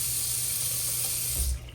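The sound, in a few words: water running from hotel bathroom sink faucet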